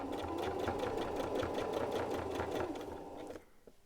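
Sewing machine stitching a neckband onto a t-shirt, a steady fast run of needle strokes close up and loud for over three seconds, then stopping abruptly into near quiet.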